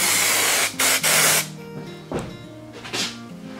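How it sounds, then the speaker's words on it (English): Contact adhesive hisses from a spray can onto a Land Rover Defender seat being retrimmed, in several short close bursts: two quick blasts, then fainter shorter sprays, over a low steady hum. "You're supposed to spray both sides, by the way, with the contact adhesive."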